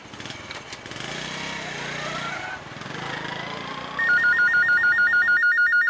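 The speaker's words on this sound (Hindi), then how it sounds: "भाई फोन उठाओ।" A telephone rings with a steady repeating electronic trill that starts partway through, loud and close, following a stretch of noisy background with some voices.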